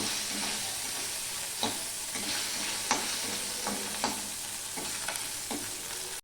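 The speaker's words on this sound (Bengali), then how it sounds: "আমি কিন্তু শুটকি মাছগুলো ভেজে" Dried lote fish frying in hot oil, a steady broad sizzle with several sharp spatter pops and stirring scrapes through the few seconds, close and fairly loud, no voices.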